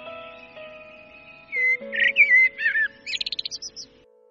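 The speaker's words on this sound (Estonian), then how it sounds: "Rakendusega saab kuulata iga linnu omapärast laulu." Bird song played back from a bird identification app for Estonian birds: a varied run of whistled phrases and chirps ending in a rapid trill of short notes, clear and alone over faint background tones.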